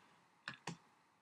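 Two sharp mouse clicks about a fifth of a second apart, close and crisp, made while working in Microsoft Word 2011 on a Mac, over a faint steady room hiss.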